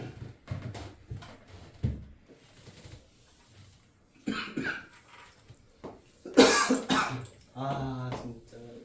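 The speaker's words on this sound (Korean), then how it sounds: "아, 진짜 기침 없는 세상에 살고 싶다." Several coughs break out during a Korean maths lecture on rates of change in a cone's volume, with bursts scattered among stretches of the teacher's speech and a louder fit near the end.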